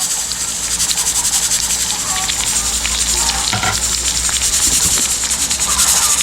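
Bicol Express with mussels sizzles in a pan while being stirred, making a continuous frying crackle with scraping stir strokes and soft clinks, close and fairly loud.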